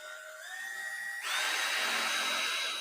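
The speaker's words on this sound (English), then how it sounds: "So I'm going to put my drill bit in that divot." A power drill spins up with a rising whine, then bites into a hole at a small divot and settles into a louder, steady drilling buzz.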